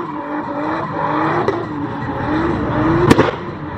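A drift car with a Nissan RB25 engine and worn tires at an Ebisu circuit event, tires squealing loudly over a sustained engine drone with shifting pitch, a sharp bang or chirp near the end.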